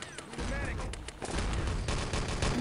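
MP40 submachine gun fire in a competitive World War II shooter match, rapid overlapping bursts amid other gunfire, fairly loud and continuous, with a commentator's voice faintly underneath.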